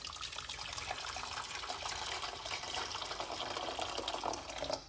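Water pours steadily into a medium-sized pot on a stove, a continuous close trickle and splash lasting the whole few seconds with no talking.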